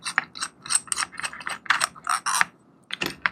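Rapid clicking and ratcheting as a clay extruder is unscrewed by hand, a series of close, bright plastic clicks in uneven bursts.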